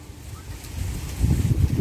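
Outdoor wind buffeting a microphone, low rumbling gusts that grow louder and rougher toward the end of a short stretch, with no talk over it.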